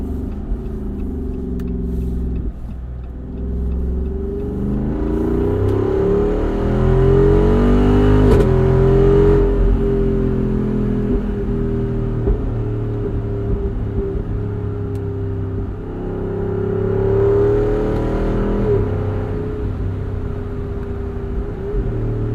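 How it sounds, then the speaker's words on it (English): A Jeep Wrangler engine revs repeatedly through its exhaust in loud, close, rising and falling surges with a deep rumble, the throttle blipped in several long pulls. "You get lots of really cool random pops from the exhaust."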